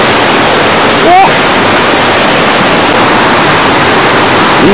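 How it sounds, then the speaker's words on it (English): Small stream below a waterfall rushing steadily, a loud continuous broadband wash filling the whole clip, with a brief faint voice-like sound near the start. "This is the same little stream hole that comes from this waterfall."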